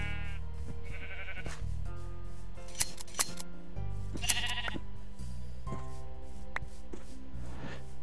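Sheep bleating in the Minecraft video game, several short cries layered over steady background game music with snipping sounds from shearing; no talking.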